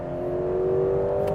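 Ferrari 12Cilindri naturally aspirated V12 engine revving, a steady, smooth whirring tone holding at a constant pitch, moderately loud and alone.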